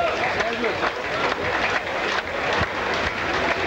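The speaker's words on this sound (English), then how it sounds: "You can hear the applause." A cricket crowd in Colombo cheers and applauds steadily after a wicket in a 1982 Sri Lanka versus England match, a dense, continuous wash of clapping and crowd noise that carries through the whole stretch.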